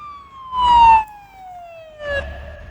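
Ambulance siren in a video game, a steady wailing tone gliding slowly downward across the clip, with two bursts of engine or road noise beneath it; no talking.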